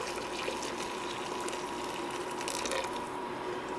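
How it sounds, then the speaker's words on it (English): Boiling water pours steadily onto dehydrated potato slices, a continuous close rushing splash that holds an even level throughout with no voices over it. "Just pouring on here some boiling water"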